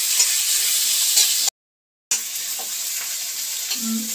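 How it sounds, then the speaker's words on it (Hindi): Onion and garlic fry in a pan for Manchurian gravy, giving a continuous bright sizzle with light stirring, briefly cut to silence midway before the hiss resumes. "प्याज को जल में भूनूंगी और लहसुन डाल दूंगी। अब इसको मैं भूनूंगी"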